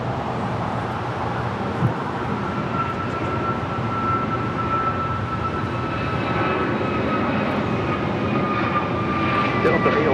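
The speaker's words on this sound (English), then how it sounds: "This is American Airlines 2656 taking off to Philadelphia on an A321neo." American Airlines A321neo jet taking off from LAX, heard as a loud, steady, broadband engine roar that holds for the whole stretch and swells slightly toward the end.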